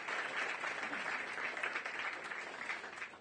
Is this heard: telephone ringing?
no